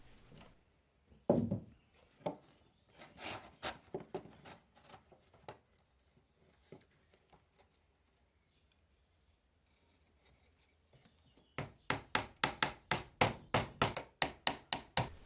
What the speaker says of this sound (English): Here I'm attaching new sheets of foundation to frames, ready to be put into new boxes come spring.